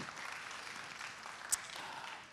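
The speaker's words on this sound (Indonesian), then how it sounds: "Tepuk tangan dulu dong untuk semua yang ada di sini" An audience at an Indonesian AI event claps in a steady, fairly soft wash of applause lasting a couple of seconds, with one sharper clap standing out midway.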